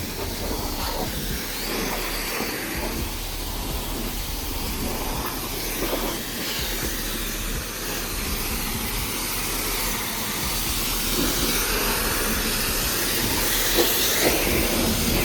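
A self-service car wash pressure sprayer hisses steadily as it washes an Acura TSX, a continuous broadband spray close by that swells slightly louder near the end, with no talking.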